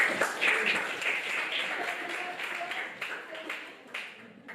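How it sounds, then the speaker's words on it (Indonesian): A classroom of students applauding a group after its presentation, a short, steady patter of clapping close by, with voices mixed in. "Tepuk tangan dulu buat kelompok."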